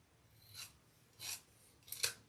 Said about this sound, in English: to decrease some of the bulk, we are going to cut this excess off